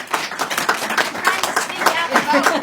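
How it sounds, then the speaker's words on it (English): Applause for Senator Shaheen at a Senate Democrats event on Medicare and Medicaid's 60th anniversary: a modest crowd claps in an uneven patter, fairly close, with voices talking over the clapping. "And let's give Senator Shaheen a big round of applause."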